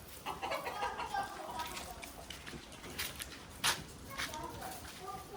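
Hens cluck repeatedly on a goat farm, a busy, close chatter of birds with a sharper squawk near the middle, while people talk over them.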